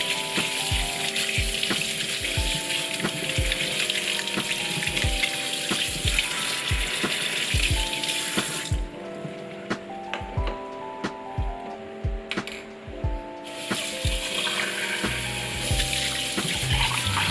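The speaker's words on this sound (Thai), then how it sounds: "ตัวแก้วก็ล้างไปเลย" Tap water runs steadily as a glass from a Staresso SP200 coffee maker is rinsed in a sink, a continuous splashing hiss that briefly drops away midway, with rhythmic background music throughout.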